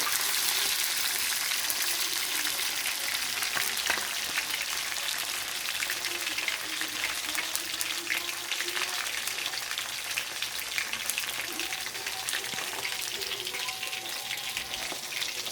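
Tilapia frying in hot oil in a home kitchen, a dense continuous sizzle with fine crackling pops and occasional splatters, steady and close with no talk.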